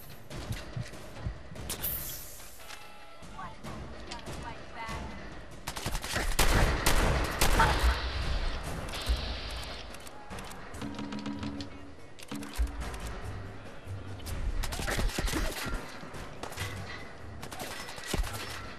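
Rapid gunfire bursts in Fallout 4, with clusters of sharp shots and automatic fire rattling through a cargo-ship fight, loud and dense over steady game background noise.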